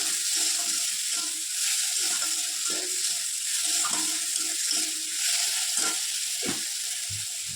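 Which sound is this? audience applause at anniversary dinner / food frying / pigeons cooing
food frying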